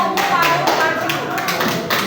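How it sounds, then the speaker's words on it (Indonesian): A group claps hands together in a room, a dense, loud patter of overlapping claps with voices mixed in underneath. "Beri tepuk tangan kelompokmu baru maju."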